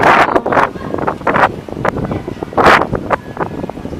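Gusty wind buffets the microphone in irregular bursts, loud and rough, with no voices.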